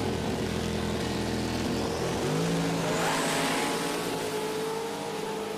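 NHRA Top Fuel-style drag racers with 671-blown engines and a turbo car launch together at the Sonoma Nationals, a loud sustained engine roar with rising harmonic sweeps as they accelerate away, no talk.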